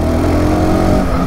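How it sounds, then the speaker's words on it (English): A 2023 SYM NH-T 300 scooter engine revving hard above 5000 RPM, a loud, steady, buzzing drone heard close and alone throughout the short stretch. "If you get up to the higher RPM above 5000, it actually does start to come alive."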